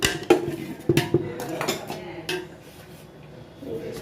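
A spatula scrapes and clanks against a pot while rice and chicken for biryani are mixed, a few sharp metallic knocks and scrapes up close, then quieter stirring.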